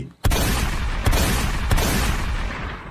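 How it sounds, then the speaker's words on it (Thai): Three loud, sharp gunshots fired into the sky, spaced about a second apart, each ringing into a dense, sustained rumble that nearly drowns out the gaps between them. "ก่อนจะหันปลายกระบอกปืนขึ้นฟ้า แล้วเหนี่ยวไกลออกไปสามนัดทันที"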